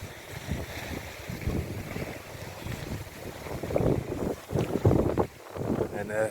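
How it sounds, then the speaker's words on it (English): Wind gusts buffet the microphone at a sailboat anchorage behind a small peninsula of an island nature park near Rauma, rising and falling in rough surges while a voice is heard under the noise. "It's quite windy."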